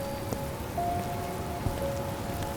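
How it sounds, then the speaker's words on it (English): Rain falls at night as a radio drama sound effect, a steady dense patter that stays even throughout, with a faint tone and occasional small knocks underneath. "it's raining"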